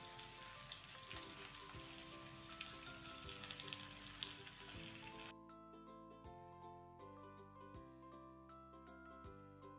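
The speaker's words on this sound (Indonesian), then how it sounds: "Setelah bawangnya harum, layu, masukkan tempe. Lalu aduk-aduk." Tempeh fries and gets stirred in a pan with wilted shallots, giving a busy sizzle over background music. The sizzle drops out halfway, leaving the music alone.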